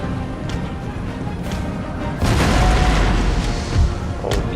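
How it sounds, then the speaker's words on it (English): Cannon fire booms during a Total War Empire battle, a heavy muffled blast landing midway and a second thud shortly after, set against a constant low battlefield rumble. "we can start shooting cannon at them"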